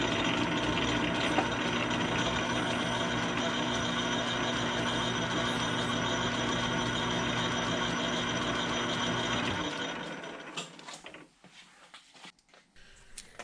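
A metal lathe takes a light first scratch pass while cutting a thread for a new Bridgeport milling vise feed nut, giving a steady, even mechanical whir for about ten seconds before it winds down and stops.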